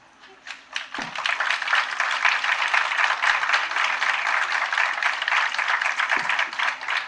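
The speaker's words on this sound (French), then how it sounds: "Normalement, vous ne devriez pas applaudir, allez, j'accepte les applaudissements" Audience at a municipal council meeting applauding after a unanimous vote, a crowd clapping steadily and briskly for several seconds after a lone voice, with a few louder knocks in the room.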